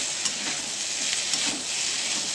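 Food cooks in a pan that has just been uncovered, giving a continuous soft, even sizzle and hiss with faint stirring scrapes and no other sounds.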